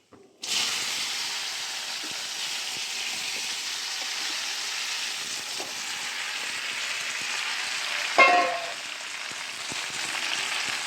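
Jujube berries stirred into hot oil with two dried red chillies over a medium flame for a pickle: a steady, loud, close sizzle that runs throughout, with a brief louder burst near the end.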